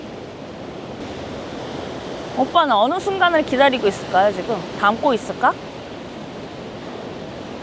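Large ocean waves break and surge continuously near Hajodae lighthouse on the Korean east coast, a steady loud roar of surf under a voice talking through the middle of the clip.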